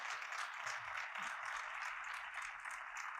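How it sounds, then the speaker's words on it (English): Audience applause at a convocation speech, faint, steady clapping from a crowd heard at a distance, with no talk over it. "Just give me a round of applause, please."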